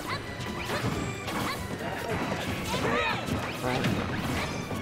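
Forward smash attacks in a Super Smash Bros. tournament match land as sharp impact cracks and swooshes amid busy game effects, with excited commentators talking over them.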